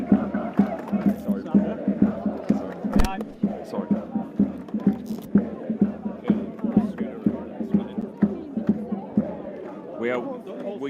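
A large crowd of Norway football fans packs South Beach in Miami before a quarter-final against England, with rhythmic chanting and shouts pulsing close by, and a reporter speaking over the noise.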